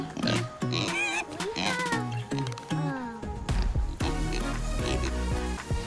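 Pigs on a farm grunt and squeal in a busy, overlapping chorus, close and fairly loud, with some higher squeals mixed among the lower oinks.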